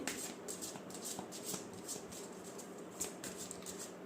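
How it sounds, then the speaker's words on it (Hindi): Tarot cards being shuffled and handled during a reading, a steady close papery riffling and patter with soft taps running throughout, with no talking. "ये कार्ड्स मैंने लास्ट फ्यू आवर्स के लिए निकाल लिए हैं"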